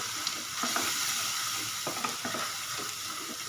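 Malai cooks down in a pan for homemade paneer, a continuous close sizzle broken by repeated scraping stir strokes at an uneven rhythm.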